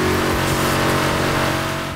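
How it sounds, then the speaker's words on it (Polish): A McLaren SLR Stirling Moss engine revs loud and close in the racing game Need for Speed: Hot Pursuit (2010), holding a steady, harmonic-rich roar for the whole stretch. "Stirling Moss również ma kapitalny dźwięk silnika"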